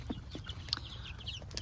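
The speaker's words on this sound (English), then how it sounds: "So these chickens are pearl whites, and they're gonna lay white eggs." Pearl white chickens on a farm cluck softly in a short, quiet burst, with a few brief calls rising over a low background hum.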